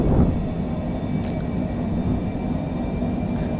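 A Cessna Citation C700 jet rolls for takeoff in Microsoft Flight Simulator, its engines giving a steady, loud roaring rumble that runs on without a break and with no voices.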